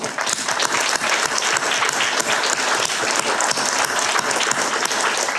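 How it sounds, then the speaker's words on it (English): Warm applause from the audience at a university grant ceremony honouring recipient Marina, a loud, steady wash of many hands clapping that continues without a break and without talk. "So I want to give a very warm applause for Marina for taking this decision and doing this."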